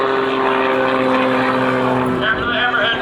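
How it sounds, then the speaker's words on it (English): A Pitts S2B Special aerobatic biplane's propeller engine drones loud and steady at an airshow, with a sustained harmonic roar that shifts pitch near the end as the aircraft tumbles; an announcer talks over it. "as you watch the airplane tumble end over end"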